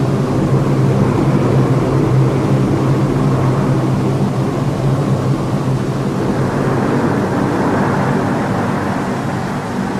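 Steady, loud engine drone of a large aircraft, a constant low rumble with a broad roar on top that holds evenly throughout.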